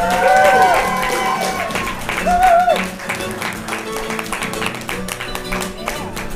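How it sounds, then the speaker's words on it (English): An audience at a satsang gathering claps and cheers loudly while music with a sung melody plays over it, the applause fading slightly after a few seconds. "Get a big fat round of applause for David, please."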